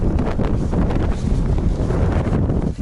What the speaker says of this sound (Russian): ветер, правда, страшный